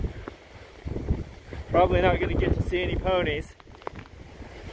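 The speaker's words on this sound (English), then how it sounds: "God, it's windy." Strong wind along the Appalachian Trail in the Grayson Highlands buffets the microphone with a continuous low rumble and gusts while someone talks over it amid freezing rain and hail.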